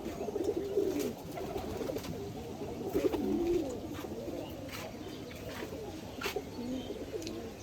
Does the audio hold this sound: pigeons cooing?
yes